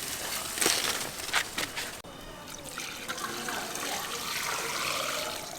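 Water pours and trickles into clay in a pot, mixing it into a plaster for coating a stove; a splashy burst first, then a steady, close running pour.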